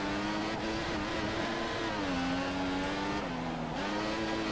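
Formula 1 car engine in the F1 2014 video game at Spa, a loud steady high-revving whine holding near top speed with slight pitch dips, continuous and alone without talk.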